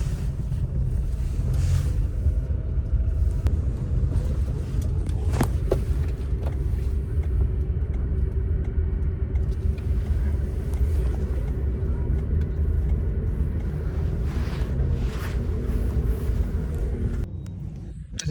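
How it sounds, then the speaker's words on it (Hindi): A Suzuki Cultus Limited Edition idles with a misfire, a constant low engine rumble with slightly uneven pulsing, recorded close amid some wind noise. "गाड़ी मिसिंग कर रही है यार"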